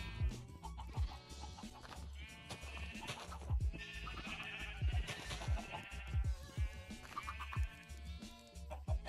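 Sheep bleating in the video game Minecraft, several short wavering bleats repeating through a busy game soundscape, with clucking chickens nearby and no talk.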